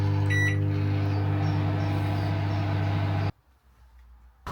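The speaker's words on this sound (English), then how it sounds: "I have measured 2 cups of plain flour that I'm going to microwave for a minute" Microwave oven heating two cups of plain flour, a loud steady mechanical hum with a few beep tones near the start, then the running stops abruptly and leaves near silence before a faint sound returns.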